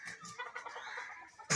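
A Fayoumi rooster clucking up close in a farmyard, a quick run of short, raspy clucks in an uneven rhythm that ends with a sharp louder burst.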